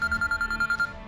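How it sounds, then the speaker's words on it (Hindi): A mobile phone rings with an incoming call, a rapid series of about ten evenly pulsed electronic beeps at moderate volume that then stops. "सफदर शाह का फोन आ रहा है इसके पास"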